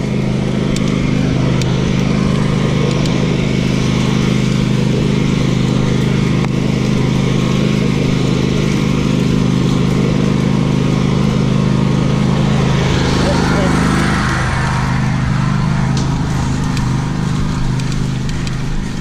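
A park crew trims grass along a singletrack trail with a mower or string trimmer, a steady loud engine drone that runs the whole time without letup.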